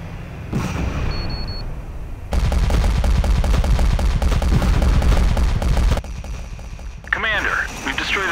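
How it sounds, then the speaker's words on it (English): Dense, loud battlefield gunfire and booms fill a military simulation video game. Rapid bursts and heavy impacts run continuously, fitting mortar fire, and a voice talks over the combat. "I am engaging them with mortars."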